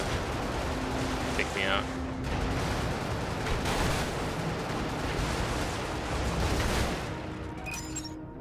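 Turret gunfire in the video game Brigador, a dense, continuous barrage of shots and blasts that fills the whole stretch with a voice speaking over it.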